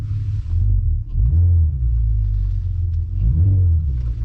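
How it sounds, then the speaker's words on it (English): A VW Golf R32 with a VR6 engine cruises at night, heard as a low, steady engine rumble from inside or near the car, with a couple of gentle rises in revs over the drone and no talking. "a little late night cruise with some VR6 sounds."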